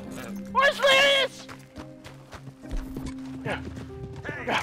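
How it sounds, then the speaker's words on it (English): A horse in the video game Red Dead Redemption 2 gives a short snort or whinny and a few hoof clops. A voice and game dialogue run alongside, with music underneath. "Try to steal my damn horse, Lyrius?"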